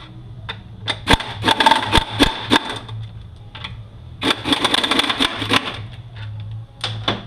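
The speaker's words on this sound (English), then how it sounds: "you need a good socket and keep good forward pressure on that" A socket wrench loosens a 10 mm bolt on a 4T65-E automatic transmission, giving close, rapid bursts of ratcheting clicks separated by short pauses.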